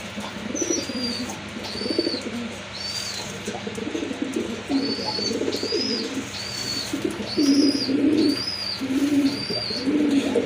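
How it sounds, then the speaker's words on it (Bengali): A pair of brown-necked breeding pigeons coo in steady, repeated bursts close by, with softer bird chirps and calls in the background throughout. "দেখেন এক জোড়া খয়রা গলা কবুতরগুলো কিন্তু ডিম বাচ্চা করা সম্পূর্ণ রানিং কবুতর"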